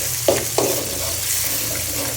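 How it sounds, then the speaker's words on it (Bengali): Onions with a little salt frying in hot oil, a short steady hiss with two brief stirring clinks early on. "পেঁয়াজটা একটু ভাজা ভাজা করে নেব।"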